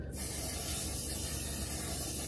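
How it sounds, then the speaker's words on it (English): A single long spray hisses out steadily for a couple of seconds, close and bright, starting and stopping abruptly. "so I'm going to spray."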